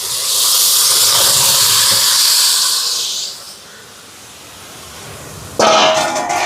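Raw chicken goes into a hot pan of softened onion and tomato for chicken curry and sets off a loud, broad hissing sizzle. The sizzle eases after about three seconds, then flares sharply again near the end.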